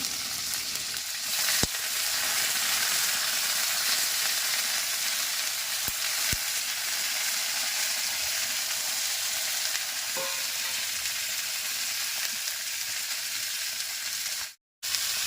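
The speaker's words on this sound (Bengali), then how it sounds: "তেলে বেগুনটা দিয়াতে কেমন আগুন ধরে যেছে" Eggplant pieces fry in very hot oil in a pan, giving a loud, steady sizzle that holds for about fifteen seconds with a few clicks and stirring sounds, then a brief cut.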